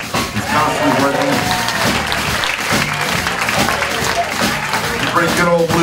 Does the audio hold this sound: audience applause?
yes